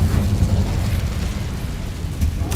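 In Hogwarts Legacy, the Incendio fire spell goes off as a sustained, loud roaring burst with a deep rumble, then a short crackle near the end.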